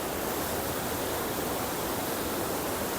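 A small mountain waterfall near Uzungol, Trabzon gives off a steady, dense hiss of rushing water, close and continuous with no pauses or voices.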